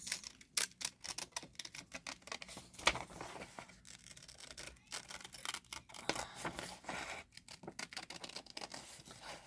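Scissors snip repeatedly at close range, quick crisp cuts with short pauses between, quiet and without speech.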